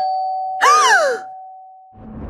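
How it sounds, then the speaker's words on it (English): A two-tone electronic doorbell chime in the video game Hello Neighbor rings out over a steady synthetic hum, followed by a burst of low noise. "Mikey, that was the doorbell!"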